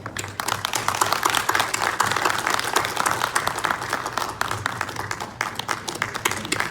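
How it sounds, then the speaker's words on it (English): An audience applauds a Vietnam veteran, Captain Ha, at the launch of a Southeast Asian sea association, a steady crowd clapping that holds evenly throughout with a low hum underneath. "just give him a round of applause"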